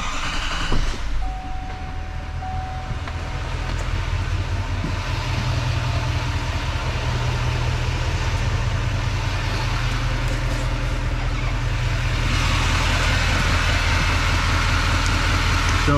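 An L5P Duramax pickup with a 10-speed transmission, already warm after a drive, starts up and settles into a steady low diesel idle that runs on without a break, close and fairly loud.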